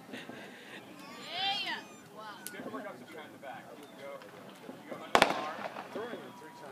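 Fireworks bang and crackle at an outdoor juggling show, with one loud sharp burst standing out among a crowd's chatter and someone talking nearby.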